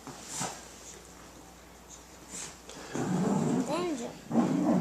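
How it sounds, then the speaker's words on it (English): A small dog yips and barks in short, rising bursts in the later part of the clip, fairly close, while people talk over and around it. "You hear that dog trying to be tough?"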